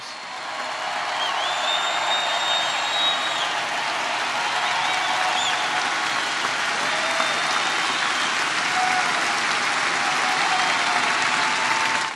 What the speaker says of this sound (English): A round of applause for our hard-working coal miners.